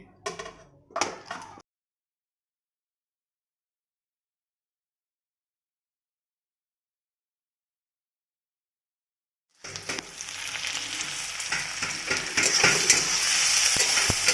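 Onions frying in a pan for a Bengali-style chicken curry with potatoes: after a few short clatters and a long silence, a steady sizzle sets in and grows slightly louder toward the end.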